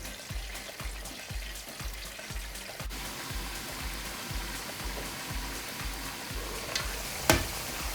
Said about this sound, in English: just stir them up a bit, move them about